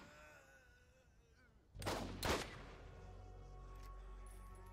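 Gunfire in the video game Borderlands, a pair of sharp, loud shots in quick succession after a quiet stretch, followed by a lingering low rumble.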